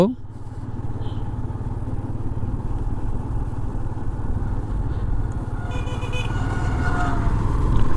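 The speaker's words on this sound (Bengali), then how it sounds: "আমি মোটর সাইকেল চালাচ্ছি" A motorcycle rides along a rural village road near a forest in Gazipur, its engine holding a steady low drone that swells slightly toward the end, heard close and continuous with road and wind rumble.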